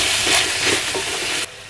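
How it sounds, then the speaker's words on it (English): Chickpeas are stirred in a hot frying pan, giving a bright, close sizzle with a few scraping swishes from the stirring. The sizzle drops off suddenly near the end. "Give it a stir."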